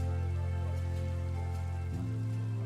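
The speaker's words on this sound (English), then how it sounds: "it wouldn't be a stream unless it rains at least once a day" Steady rain falls in the Minecraft Java 1.19.2 world, a constant wash of patter over a low steady hum, with a brief shift in the background tone near the end and no voices.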